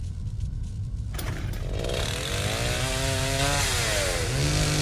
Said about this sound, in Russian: Кто-то с бензопилой, блядь, уже слышу, ебаный в рот.